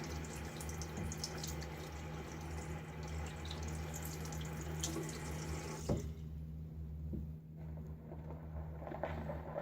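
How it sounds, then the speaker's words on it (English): A bathroom tap runs steadily into a sink while a Gillette Fat Boy safety razor handle is rinsed off, a close, continuous watery hiss with faint splashing; the flow thins out partway through. "you can also do is to turn on the water and just rinse the handle off"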